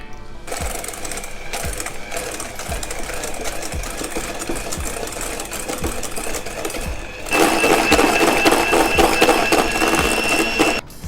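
An electric mixer whips egg whites and 250 grams of white sugar into meringue for an orange cake, a loud steady whirring with rhythmic clicks that grows louder and brighter near the end.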